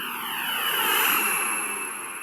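Simulated Boeing 747 jet engines roar during a takeoff run in the game SimplePlanes, a steady whine and rumble that swells and then eases over a couple of seconds.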